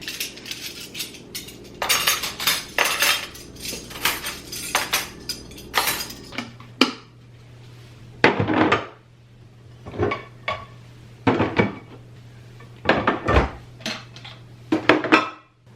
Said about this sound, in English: I'll go ahead and get these dishes put away